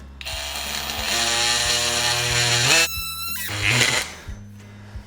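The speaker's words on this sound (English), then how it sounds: "cutting these little trim pieces that match the cabinets" A power saw cuts small plywood trim pieces that match kitchen cabinets, a loud whining buzz rising as the blade spins up and bites in, then winding down after a few seconds, close by with no talk.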